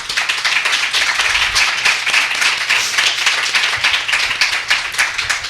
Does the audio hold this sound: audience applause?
yes